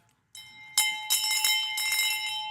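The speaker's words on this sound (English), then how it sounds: "that bell. Ring it." A sales-office celebration bell, rung for closed deals, is struck repeatedly; bright ringing tones build and sustain with overlapping strikes, loud and close, with no talking.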